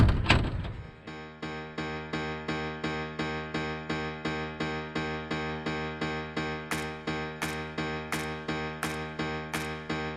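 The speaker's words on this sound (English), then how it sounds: "Shut my door here." The cabin door of an Aeronca Champ light airplane shuts with one brief, solid thunk in cold weather, followed by a steady, rhythmically pulsing tonal hum.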